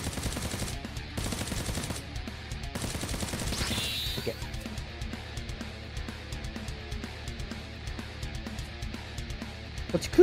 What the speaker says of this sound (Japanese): なんか後ろも銃声するな